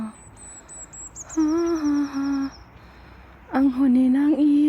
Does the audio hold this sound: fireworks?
no